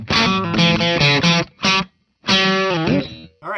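Electric guitar, a 2008 Fender Japan Disney Mickey Telecaster played through a Marshall Blues Breaker pedal with a Red Rocks pedal: loud, overdriven chords and notes in short phrases separated by a brief pause, with a bending final note, no talk.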